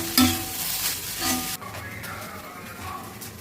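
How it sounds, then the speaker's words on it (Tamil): Cooked rice mixed with masala in a hot pan, scraping stirring strokes over a light sizzle, close, with a sharp clatter near the start and quieter sounds after a sudden drop partway through. "இதில் வந்து சாப்பாடு மிக்ஸ் பண்ணிக்கலாம்."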